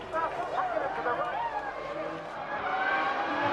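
Formula One cars race at the 2000 Belgian Grand Prix, their high-pitched engines whining and shifting as one overtakes into the lead, heard faintly beneath commentary.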